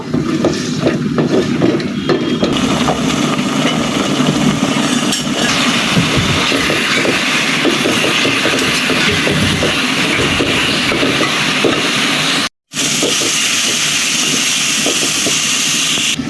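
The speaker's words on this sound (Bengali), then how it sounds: "এখন এই বাটা মশলাগুলো সব একদম ভাজা ভাজা করে নিব" Ground spice paste fries in a pan for a village-style country chicken curry with coconut, making a loud, dense, continuous hiss. There is a brief dropout near the end before the hiss resumes.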